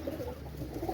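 A pair of Pakistani high-flying pigeons, a male and a female, give soft, low coos in a brief, quiet murmur, heard close but faint.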